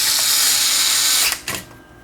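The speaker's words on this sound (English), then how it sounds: "this cordless screwdriver has been quite useful since I got it" A cordless screwdriver runs in a steady continuous whir close by, then cuts off abruptly, followed by a couple of short clicks and faint handling noise.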